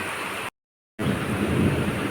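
Steady broadband hiss of rain falling, loud and close, broken by a half-second gap of silence before the downpour sound resumes.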